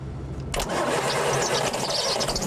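A sugar beet harvester tractor's engine cranks and fires after about half a second, then settles into a loud, rough running roar close by, with no one speaking.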